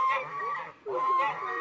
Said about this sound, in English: Oh, and the rooster's out there.